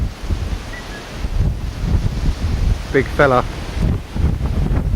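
Gusty wind buffets the microphone throughout in Belgium, with rumbling low noise, and someone speaks briefly midway.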